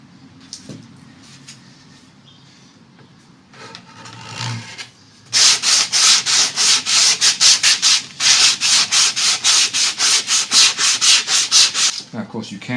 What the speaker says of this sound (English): Now it's just a matter of smoothing everything and blending all the lines and whatnot.